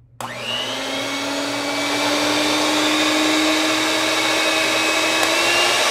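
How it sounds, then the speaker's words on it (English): A Redmond electric hand mixer whirs loudly and continuously as it whips mashed potatoes, its motor starting abruptly and rising slightly in pitch as it spins up, close and steady with no talk. "now we're gonna get that Redmond mixer and fluff it up"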